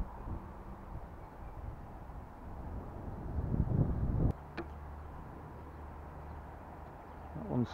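Strong outdoor wind buffets the microphone in steady low rumbling gusts, swelling louder near the middle and cutting abruptly, with a few faint clicks and handling knocks afterward.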